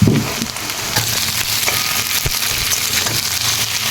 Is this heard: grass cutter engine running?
no